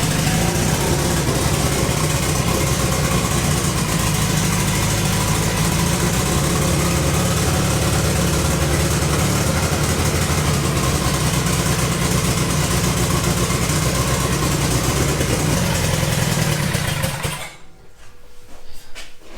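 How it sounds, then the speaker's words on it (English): A Honda Integra project car engine running at a steady, loud idle close by, a continuous droning rumble that cuts off abruptly near the end, leaving a quieter background. "at the end of the day, we got the motor fired up, we got it running"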